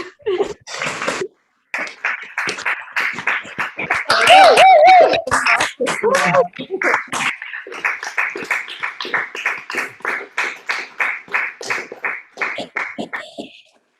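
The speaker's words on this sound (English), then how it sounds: "can we get a group clap for our counselors?" Group clapping for camp counselors at an opening ceremony, with participants unmuted on a Zoom call; a dense, uneven patter of many hands through compressed audio, mixed with voices, brief laughter and chatter, settling into steady rhythmic claps.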